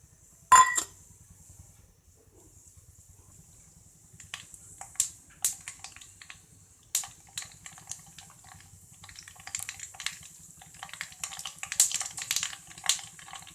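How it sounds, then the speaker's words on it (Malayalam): Small, sharp crackles and pops of mustard seeds in hot oil, starting sparse and growing quicker and denser, over a faint low hum. "കടുക് പൊട്ടി"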